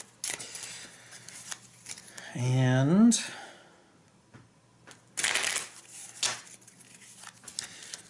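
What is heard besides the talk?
shuffling a deck of game cards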